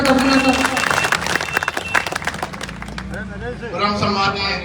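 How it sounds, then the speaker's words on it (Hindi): Applause from the crowd at an outdoor BJP political rally with a Haryanvi ragni performance: dense clapping, loud at first, then thinning out as a voice starts talking over it. "जोरदार तालियों से स्वागत अभिनंदन।"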